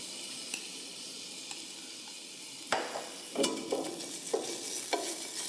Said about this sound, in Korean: 볶던 고기에다가 고추장을 넣고 이렇게 잘 볶아줘야 이 고추장이 맛있기 때문에